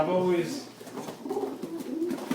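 Pigeon cooing softly in a loft, low rolling coos close by, mixed with a voice talking over them.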